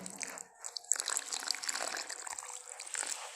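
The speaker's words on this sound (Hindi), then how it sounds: "थोड़े थोड़े पानी डाल के फिर डो बनाना।" Warm water trickles and splashes in small pours into semolina dough for golgappa, close and faint, with soft mixing sounds in a kitchen.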